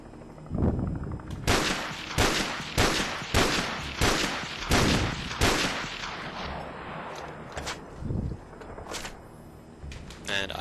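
Rapid video-game gunfire from a Wii shooting game played with a Sure Shot rifle attachment, loud repeated bursts of shots through the first half, then sparser single shots with background game noise.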